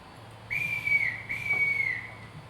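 A whistle blown to summon a household gives a steady, shrill, high tone in two sustained blasts with a brief dip between, fairly near and clear over a low background hum.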